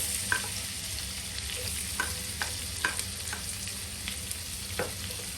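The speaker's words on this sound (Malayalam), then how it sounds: "അതിട്ട് നമുക്ക് ചെറുതായിട്ടൊന്ന് മൂപ്പിക്കാം കേട്ടോ." Chopped onion sautéing in butter in a pan for paneer butter masala, a steady soft sizzle with occasional faint clinks of a stirring spoon, fairly quiet and without talk.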